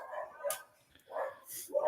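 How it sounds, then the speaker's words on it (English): Dogs barking in a house, heard faintly in the background as a few short, muffled woofs and yips separated by brief pauses, with some speech mixed in. "It's my dogs going crazy."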